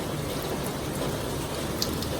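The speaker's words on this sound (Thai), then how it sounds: "หลังบ้าน วันฝนตกนี่ฮะ บรรยากาศดีครับ" Rain pouring steadily on a wet morning behind a house, a constant dense hiss of drops on surfaces with a few brighter close patters, no voices.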